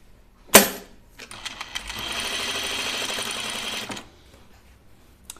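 A sewing machine runs stitching a French seam along a seam line, opening with a sharp click, then a steady mechanical whir for about three seconds before stopping, near and alone.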